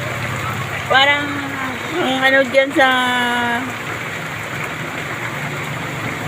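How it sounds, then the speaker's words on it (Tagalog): Heavy rain hisses steadily around a vehicle on a road trip, a constant wash of noise beneath people chatting. "Malakas ang ulan."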